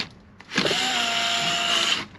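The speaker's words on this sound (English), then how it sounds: "My drill driver, it's when you pull the trigger, it goes whatever direction you turn it, and it's controllable" A cordless drill driver whirs for about one and a half seconds, its motor ramping up with a rising whine and then holding a steady high-pitched hum close by, with no talk during the run.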